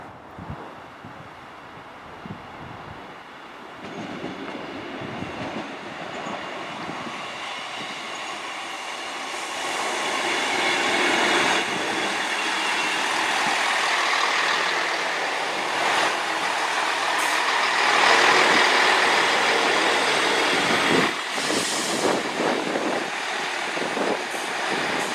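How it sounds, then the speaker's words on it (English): A Class 158 Northern diesel train rumbles through Chesterfield station, its engine and wheel noise swelling steadily over about twenty-five seconds, with a faint wheel squeal as it passes. "next up we've got a Class 158 Northern service coming to Leeds, calling at Dronfield, at Sheffield, Meadowhall, Barnsley, Wakefield, Carrickgate and Leeds."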